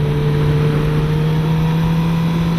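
A 2016 Suzuki GSX-R 750 motorcycle engine holds a loud, steady, even drone in third gear, close to the microphone with no voices.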